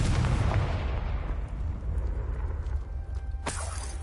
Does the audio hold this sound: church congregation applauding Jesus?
no